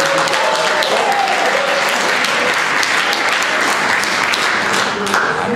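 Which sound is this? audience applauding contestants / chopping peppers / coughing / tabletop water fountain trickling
audience applauding contestants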